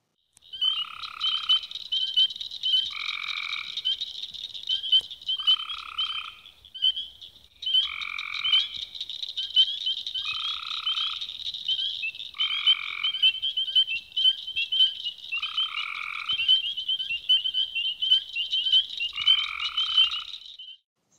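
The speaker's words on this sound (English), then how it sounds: "See if your ears can pick out the Eastern Cricket Frog from this frog party in Meigs County, Tennessee" A frog chorus in Meigs County, Tennessee, including Eastern Cricket Frogs, rings out as repeated bursts of clicking, croaking calls in regular groups, layered over a continuous high trill, fairly close and with no talking.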